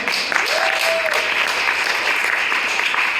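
An outdoor crowd at a Portland Good Trouble Lives On democracy rally applauds in a steady, even wash of clapping that holds at one level throughout.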